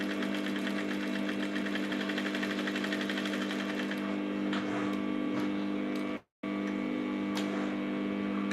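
A sewing machine stitches a bustier with a steady, even mechanical hum and ticking needle rhythm, cutting out for an instant before carrying on.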